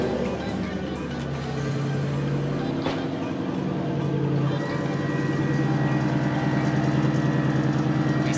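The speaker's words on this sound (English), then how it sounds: "So I'm gonna go ahead and start the car up." A car fitted with an air ride suspension setup starts and settles into a steady idle, its engine rumble close and continuous, with a loud exhaust.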